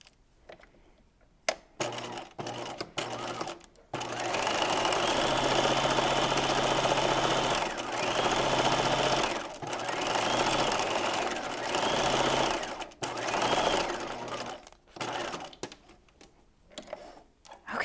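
A sewing machine stitching a narrow zigzag, its needle chattering in fast, even bursts with a few short pauses, close and loud, with clicks and handling noises before and after.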